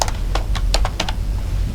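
Rapid typing on a computer keyboard, a quick irregular run of crisp key clicks over steady room noise, close and clearly audible with no talk.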